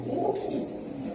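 A pair of silver beji pigeons coo in a low, continuous murmur close by, a quiet steady burble with no talking.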